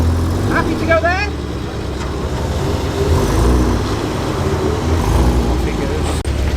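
An MGB car pulls away from a car meet, its engine a low rumble under nearby talking and general traffic noise, with a brief chirp early on.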